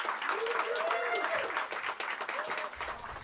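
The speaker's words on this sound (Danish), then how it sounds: "Og bliv med at klappe af Tobias." An audience claps for Tobias, a dense, sustained round of applause filling the room, with voices and cheers mixed in.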